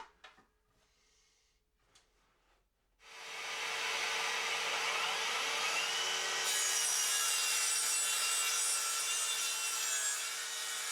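A few quiet taps, then a loud circular saw whines up and cuts steadily through plywood for several seconds, close and continuous.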